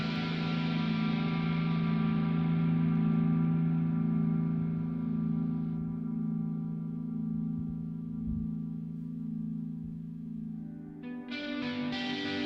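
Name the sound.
electric guitar, neck single coil, ambient reverb and chorus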